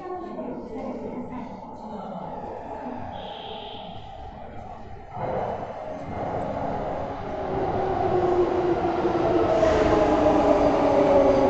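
A Kyoto Municipal Subway Karasuma Line 10 series train rumbles on the ride from Karasuma Oike toward Kyoto Station, the hum building steadily into louder rolling noise, with a brief chime near the start.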